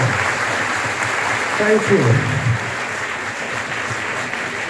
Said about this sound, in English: So just expect a good round of applause to the entire dignitaries here.